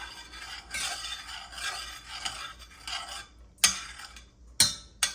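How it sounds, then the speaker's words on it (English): Hot pickle brine stirred in a pot for refrigerator pickles, a few soft scraping swirls followed by two sharper utensil knocks against the pot, close and alone. "Stir it up."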